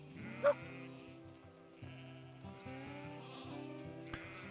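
Sheep bleating in a dry, drought-stricken paddock with little feed on the ground, one clear nearby bleat early on over a steady low rural hum, with fainter calls later.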